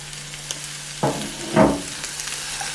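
Meat drops into a pan of sautéed spinach for Korean japchae, with a soft sizzle and a couple of stirring scrapes over a low steady hum.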